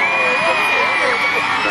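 A crowd cheers and shouts steadily throughout at an outdoor jousting show at a county show, a dense wash of voices with some higher whoops.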